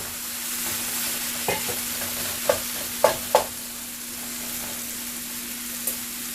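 Potatoes tossed into frying garlic and green chili paste, a steady low sizzle with a few sharp spoon knocks and scrapes against the pan, close up, with no talking.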